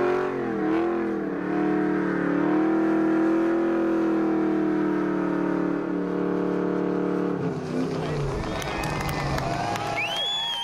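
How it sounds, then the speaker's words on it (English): A Pontiac Firebird doing a burnout at a burnout contest, its engine revving loudly and holding a high strained tone before breaking into tire-screeching roar, with crowd noise and cheering toward the end. "the owner of a Firebird who knows how to give it the gas and stay in one place"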